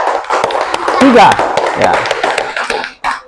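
A class of schoolchildren claps for a presenting group during a fourth-grade science lesson, with sharp scattered hand claps and taps mixed with children's voices and a brief spoken word near the end.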